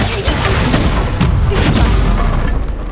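A Bombarda explosion spell goes off in Hogwarts Legacy, a loud, dense booming blast with crackling debris that roars on for a few seconds at close range.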